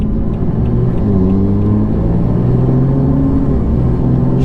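A BMW F80 M3 with a single-turbo engine and 8-speed gearbox, driven in sports mode: a loud, steady engine drone with a heavy low rumble heard from inside the car, holding a fairly even pitch throughout.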